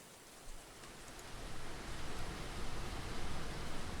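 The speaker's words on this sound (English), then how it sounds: "It is raining right now." Steady rain falls in a video game, a dense even hiss of drops that grows a little louder after the first second and then holds constant, with no voices.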